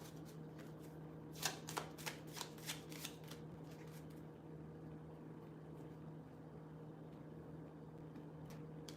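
Tarot cards being shuffled, with a quick run of crisp riffling bursts early on that then fades into a steady low hum, with no one talking.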